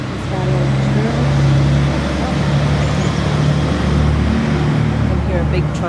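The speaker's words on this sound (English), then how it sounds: "I can hear a big truck going by." A big truck passes in a quiet residential neighborhood, a broad steady low rumble that holds loud through the whole stretch.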